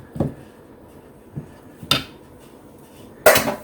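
A spatula clatters against a pan and bowl while apple pie waffle batter is mixed, giving four separate knocks and scrapes, two of them sharper and brighter, with quiet gaps between them.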